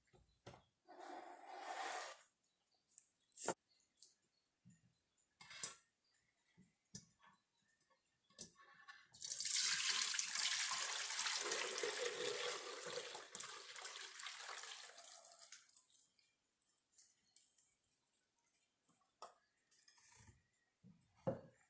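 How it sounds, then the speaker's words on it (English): Thai tea pours through a strainer into a container, a steady splashing rush of liquid lasting several seconds, preceded and followed by light clinks and taps of kitchenware in a quiet room. "We're gonna pour this in here. We're using this strainer because so the Thai tea leaves won't be in the drink."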